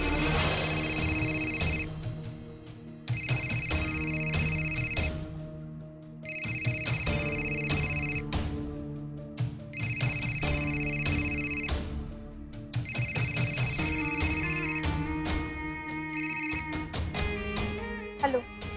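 A phone rings with a bright electronic ringtone in repeated bursts of about two seconds, separated by short pauses. It is clear and close, with no talking over it.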